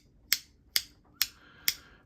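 Lautie & ACEDC Emos Milk haptic fidget coin clicking, four crisp, evenly spaced clicks about half a second apart, close and alone against a quiet background.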